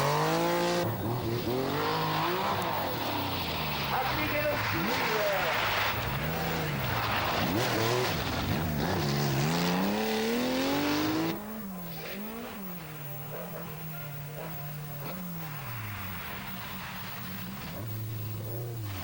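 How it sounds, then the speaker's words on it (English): A Porsche rally car at the 1983 Boucles de Spa Rally in Belgium, its engine revving hard and rising and falling through gear changes, loud and close, with the note dropping and easing later on. "Sneyers pussyfoots the Porsche to safety"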